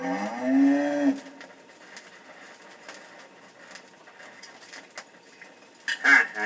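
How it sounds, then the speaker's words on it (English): A cow gives one drawn-out moo lasting about a second, followed by faint clatter and quiet background sounds with no speech. "Okay, come on, cow. Let's go home."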